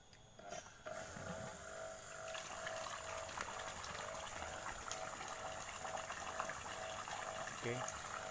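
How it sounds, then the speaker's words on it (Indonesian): An electric water pump powered by a 600 watt inverter hums steadily and quietly, with a faint whine and water-flow noise running throughout, plus a few small clicks and knocks. "pompa airnya sudah menyala"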